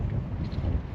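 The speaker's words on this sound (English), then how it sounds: "Ooh, it's a bit windy out there." Wind at a beach buffeting the microphone, a continuous low rumbling roar with gusty fluctuations throughout the brief moment, with no other sounds standing out.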